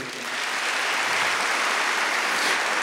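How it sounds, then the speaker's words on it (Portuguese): A church congregation at a Catholic service applauds together, a dense, loud, sustained clapping that swells quickly and holds steady for a few seconds with no voices above it. "Vamos aplaudir o Senhor."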